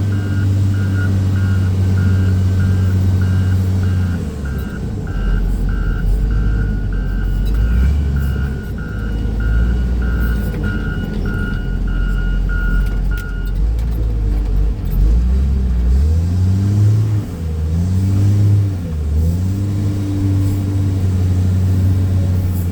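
A vehicle engine runs and labours while moving and pushing snow, its loud low rumble rising and falling as it revs, with a steady repeating beep through the first half and no talking.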